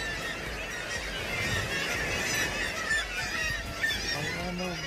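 Several birds honk repeatedly outdoors at Marsden Grotto on the South Shields coast. The goose-like calls are loud and near, layered over a steady wash of wind and ambient noise.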